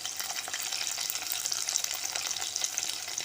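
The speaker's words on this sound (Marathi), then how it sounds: "त्यामध्ये मी ह्या हिरव्या मिरच्या घालते" Green chillies dropped into hot oil for a Marathi-style masala tempering, giving a steady bright sizzle and crackle that runs evenly throughout at close range, with no talk over it.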